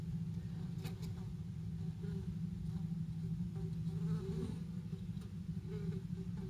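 Bees buzzing inside a beehive after an intruder got in, a dense continuous low hum that stays steady and close for the whole stretch, with faint rustling on top and no voices.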